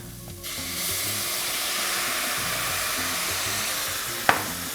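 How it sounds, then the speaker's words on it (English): Vegetable stock poured onto translucent, sticking onions in a hot pan, bursting into a loud steady hiss of sizzling steam that holds throughout, close up, with a sharp clack near the end. "right when those start to turn translucent and start to stick, I'm gonna add a little vegetable stock."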